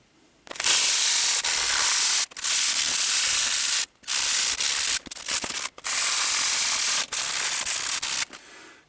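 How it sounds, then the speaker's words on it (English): A lamp light diffuser is hand sanded in long, loud, steady strokes of rough scraping, about six bursts with brief pauses between them, close up and with no talk. "But I would like to sand this just to diffuse the light even more"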